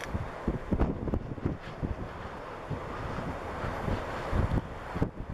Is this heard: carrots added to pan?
no